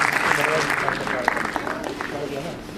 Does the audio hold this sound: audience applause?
yes